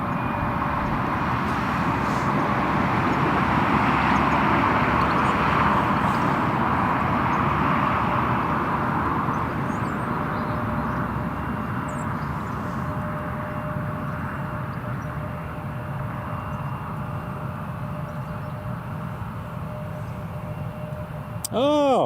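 A Swiss-registered EasyJet Airbus A320 on landing approach gives a broad, steady jet roar that holds loud and even throughout, with people talking faintly underneath.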